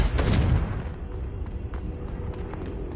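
A Confringo blasting spell detonates in Hogwarts Legacy, a loud, close explosive boom at the start that rolls off into a rumbling, crackling tail.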